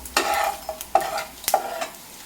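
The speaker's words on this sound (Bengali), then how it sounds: "আর এখানে বাকি মাছগুলো ভাজতে দিয়ে দিয়েছি" Morola fish fry in a pan, with a light sizzle under a few sharp metallic clinks and scrapes of a utensil against the pan, close and without talk.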